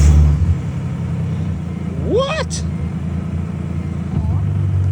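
A Ford AU Falcon drift car's engine turns over and rumbles into a steady idle, with a brief rising whine partway through and a voice speaking briefly nearby.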